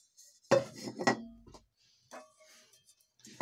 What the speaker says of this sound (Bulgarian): По-големия ветробран поема тенджерката, като влиза плътно в нея.